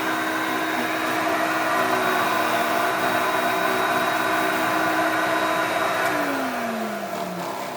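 An Electrolux Twin Turbo vacuum cleaner runs steadily and loudly with its brushes turning on carpet, a constant whining drone that shifts slightly in pitch near the end.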